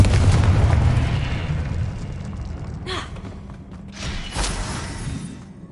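The Confringo fire spell in the video game Hogwarts Legacy sets off a loud, rumbling explosion that fades away. Two more muffled bursts follow a few seconds later.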